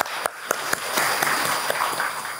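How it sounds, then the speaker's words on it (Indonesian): Audience applause at a formal speech event for Dekranas Indonesia, a dense spread of hand claps with a few sharper individual claps standing out, moderately loud and continuous through the short stretch. "Boleh tepuk tangannya untuk Dekranaz Indonesia."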